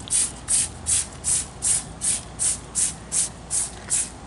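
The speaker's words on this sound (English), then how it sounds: "And just spray this thing down." Degreaser is sprayed onto a dirty, greasy engine in quick, evenly spaced hissing bursts, about eleven close-up squirts in a steady rhythm with no talking.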